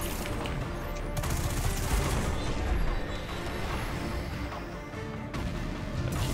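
Dense, continuous gunfire in the shooter game Destiny 2, fought during a two-player Crown of Sorrow raid: sustained rapid volleys and crashing impacts, loud and close throughout, with brief voice chat underneath.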